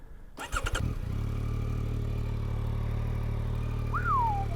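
A 2024 Yamaha XSR900 GP motorcycle engine fires up after a brief whir, then settles into a steady low idle with a faint rise in revs near the end.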